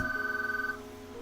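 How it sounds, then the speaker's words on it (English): Telephone ringing downstairs, a faint trilling ring heard from another room that stops after under a second, leaving quiet room tone. "sorry about the phone ringing"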